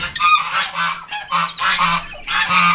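Domestic ducks quack and honk loudly in a close, harsh series of repeated bursts separated by short pauses, with no talking over them.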